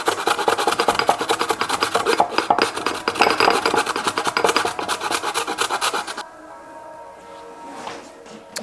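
Frozen unpeeled ginger, about an inch, rasped back and forth on a grater in a home kitchen, a dense rhythmic scraping that runs steadily for about six seconds before stopping.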